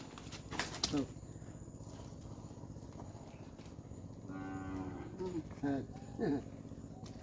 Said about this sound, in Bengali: গরুর চিৎকার।